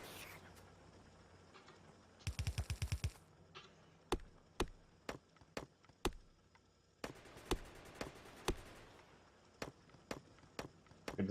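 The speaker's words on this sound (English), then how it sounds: "Good to see that our turrets are doing their work." Automatic gun turrets in Factorio firing at biters: a rapid burst of shots early on, then a second cluster later, with sharp single cracks spaced between them, fairly quiet and with no talking.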